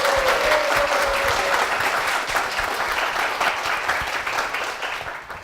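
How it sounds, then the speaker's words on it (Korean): A church congregation applauding to welcome a guest to the front during a service, a full, steady wash of many hands clapping in a large room, holding strong before tapering off near the close. "박수로 맞아주십시오"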